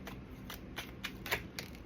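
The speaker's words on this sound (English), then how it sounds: "We can shuffle some cards." Tarot cards being shuffled, a quiet run of soft papery riffles with several sharper flicks spaced through, close and alone with no talk.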